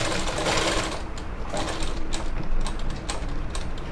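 A tailoring sewing machine stitching a gathered pant, running in a close, continuous mechanical whir with fast rhythmic needle clatter.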